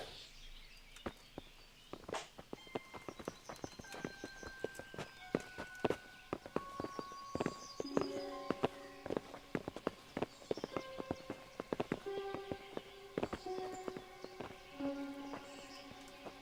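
Horses walking in the medieval video game Kingdom Come Deliverance, their hooves clip-clopping in an uneven, steady stream of sharp hits, fairly quiet, with faint tonal game sounds in the background.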